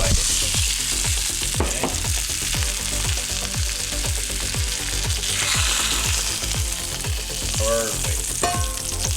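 Prosciutto fries loudly in a pan, a continuous crackling sizzle punctuated by regular scraping strokes of a utensil and a brief spoken word near the start.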